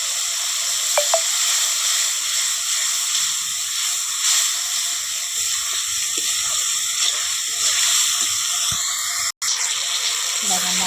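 Ground spices frying with a little water in a pan after ginger and garlic, for a soybean and potato curry; a steady close hiss and sizzle runs throughout, with a brief sharp clatter near the end.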